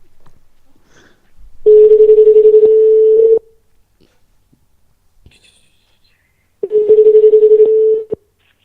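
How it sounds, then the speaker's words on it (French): Ringback tone of an outgoing phone call in France: two long, steady beeps separated by a pause, clear and close, with faint breathy noise around them. "Ça sonne."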